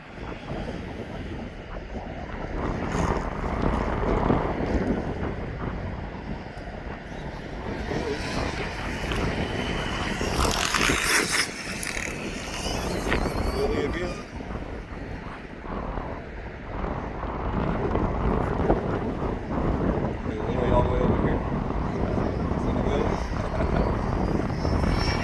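A Losi ProMoto RC dirt bike's motor whines and surges as it rides and pulls wheelies outdoors, steady buzzing that rises and falls over about 25 seconds, with people talking throughout.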